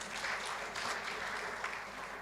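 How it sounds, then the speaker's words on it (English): A crowd in a hall claps steadily at a director general's handover ceremony, dense sustained applause with no voices over it. "We give him another round of applause."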